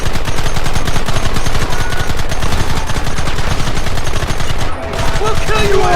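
A volley of gunfire in the Red Dead Redemption video game, loud and relentless, with dense rapid shots from many guns overlapping for six seconds with barely a pause.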